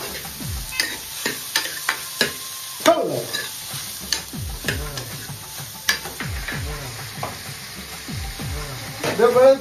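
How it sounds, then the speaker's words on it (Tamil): A ladle stirs and scrapes food being sautéed in a home kitchen pan, with a steady soft sizzle under repeated metallic clinks and scrapes, some sharp and close, and faint voices in the background. "நல்லா வந்து நல்லா வதக்கணும்"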